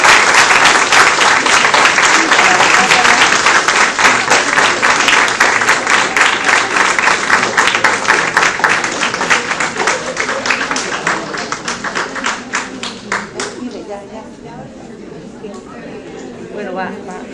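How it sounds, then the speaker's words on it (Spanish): Loud, dense applause fills a conference hall in honor of a director and keeps going strong for around ten seconds before it thins out and tails off into scattered claps and murmuring. "Demos un fuerte aplauso."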